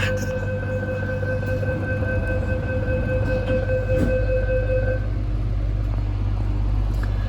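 A Sydney Metro train running, heard from the cab: a loud, steady low motor drone with sustained whining tones that fade midway, leaving a constant rumble and rolling noise.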